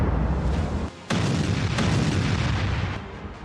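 A heavy, roaring blast rumble fills the air, briefly cut off before resuming as a sustained booming roar that slowly fades.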